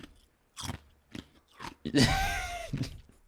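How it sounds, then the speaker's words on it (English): Ice crunches loudly between teeth close to the microphone during a podcast: a few short bites, then a sustained grinding crunch. "Stop chewing ice on the podcast."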